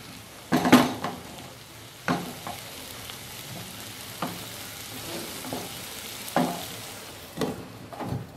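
Cauliflower, peas and carrot being sautéed in a pan with a pinch of black masala, a soft steady sizzle broken by a few sharp scrapes of the spoon against the pan, with no talking.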